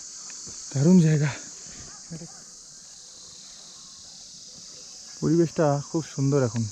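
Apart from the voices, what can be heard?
crickets chirping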